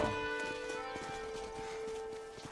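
Horse hooves clip-clop in the video game Red Dead Redemption, a steady close trotting rhythm under sustained tonal game music and ambient sound.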